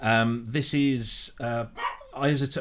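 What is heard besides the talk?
dog barking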